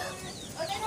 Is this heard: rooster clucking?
yes